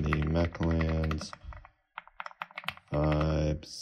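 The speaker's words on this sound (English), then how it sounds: "So I'm just gonna type, hello world. This is me typing on the Mechlands" Mechanical keystrokes on a wired Mechlands Vibe 75 keyboard, a quick run of clicky taps between stretches of someone talking, fairly close and clear.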